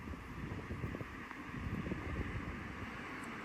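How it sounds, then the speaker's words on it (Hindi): Strong wind blowing outdoors on an early-morning walk, a faint, rough, continuous rush with low buffeting gusts, heard alone. "हवा चल रही है बहुत ज़्यादा"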